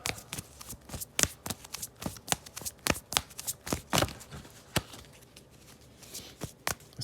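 Tarot cards being shuffled by hand in a steady run of crisp riffling bursts and soft slaps, fairly close and moderately quiet, with no voices over it.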